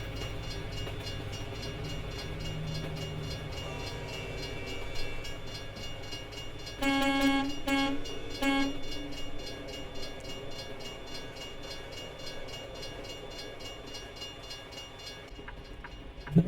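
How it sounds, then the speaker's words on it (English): A train rolling past a road crossing in American Truck Simulator, a steady low rumble with a burst of loud horn blasts midway, then fading as the train goes by, no talk over it. "So this is the first train we've had."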